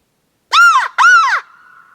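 Two sharp, loud crow-like caws, imitated by a person using a crow call, ring out close in quick succession to provoke Merriam's turkeys into shock gobbling, followed by a faint lingering tone.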